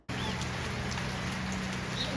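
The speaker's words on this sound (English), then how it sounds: "It's been raining heavily for about 2 hours" Steady, dense rain hisses continuously by a river in Costa Rica, a constant wash of falling water with a low rumble underneath.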